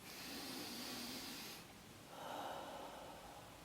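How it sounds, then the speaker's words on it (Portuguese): Deep breathing, a long breathy inhale followed by a slower exhale, heard close and alone with no talking. "Respiração profunda."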